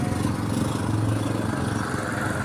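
Motorcycle engines idle and rumble steadily at a public market by a municipal seaside area, a continuous low mechanical drone mixed with crowd ambience.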